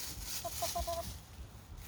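Australorp and mixed-breed hens give a short run of soft, quiet clucks, four or five quick notes, against low background rumble.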